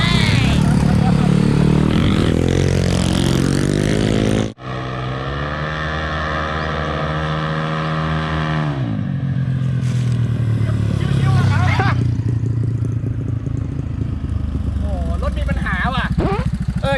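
Motorcycle engine revving hard at a street race in Khon Kaen, loud and sustained with rising and falling pitch, a sharp cut partway through, under a busy crowd and people talking.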